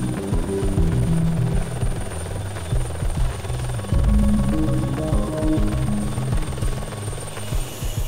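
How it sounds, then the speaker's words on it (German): A police helicopter comes in to land during a training flight, its rotor thumping loud and close with a heavy fluctuating drone and throbbing blade beat throughout, no speech. "Bringt Böhm den Helikopter aber auch sauber zu Boden?"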